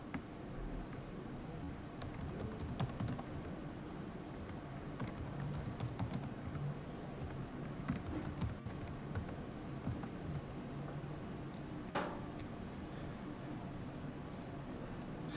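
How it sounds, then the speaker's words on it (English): Fingers tapping on a computer keyboard, a quiet, steady stream of soft key clicks with irregular rhythm and occasional louder strokes, close by and without talk. "I can then just type straight into my table and put in my tabular information here"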